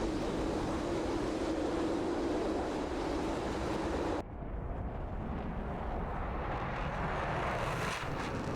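Video game aircraft accelerate down a runway for takeoff, heard as a loud, continuous engine roar that cuts sharply partway through and resumes as a thinner, steady rushing drone.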